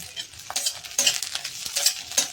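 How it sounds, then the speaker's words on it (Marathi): Coconut, garlic and green chilies are stirred and sautéed with onion in a pan, steady soft sizzling with repeated scraping strokes of a spoon against the pan, close and moderately quiet, no talking. "छान असं ह्याला आपल्याला परतून घ्यायचं"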